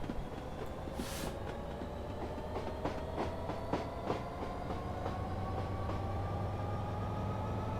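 A BR Class 66 diesel locomotive runs on the North London Line with a low, even engine drone and a rhythmic series of faint wheel clicks over the rails.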